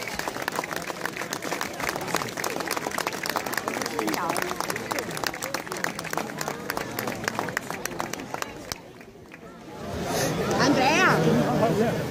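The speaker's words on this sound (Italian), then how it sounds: "un applauso ai nostri al nostro futuro" A crowd at a Mestre anniversary celebration gives the team a loud, sustained round of applause with lively chatter mixed in. The clapping fades after about eight seconds into a murmur of crowd voices.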